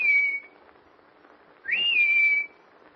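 A man whistles to call someone, two loud sustained shrill tones, the first fading early and the second sliding upward then holding, with quiet room tone in the pause between.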